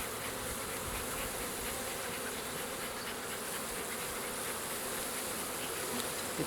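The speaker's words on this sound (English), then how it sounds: "we've got lots of bees in here." A dense, steady buzzing of many bees in a hive fills the air continuously, close and loud, with no talking.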